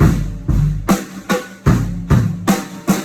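Drum kit groove with a fast double kick drum pattern, booming kicks and sharp snare or cymbal hits repeating in a steady rhythm during a drum lesson, played alone without talk.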